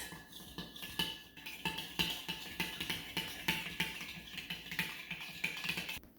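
A utensil beats donut batter in a bowl with quick, regular clicks and taps, about three strokes a second, close and fairly quiet, with no talking.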